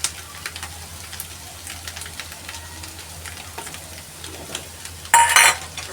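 Spices being stirred into a potato vada mixture: soft, irregular scraping and stirring with a faint sizzling background, ending in a brief louder clatter of a spoon or utensil against the pan.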